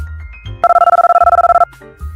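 A telephone rings in an audiobook scene: an electronic two-tone ring pulses rapidly for about a second, loud and close, with quiet low sounds before and after.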